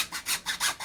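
A pipe being cut by hand for a homemade solar heater, giving four rhythmic rasping strokes, close and fairly quiet, with no talking.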